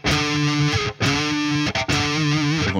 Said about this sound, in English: I'm bending slightly, just a quarter bend tops